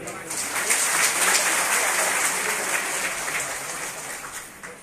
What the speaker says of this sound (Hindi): आप सबके लिए एक बार जोर से ताली हो जाए।